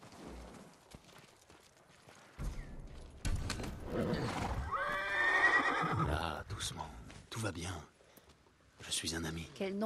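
A horse in the video game Ghost of Tsushima whinnies loudly near the middle, with hoof clip-clops and snorts around it and game characters speaking over parts of the scene.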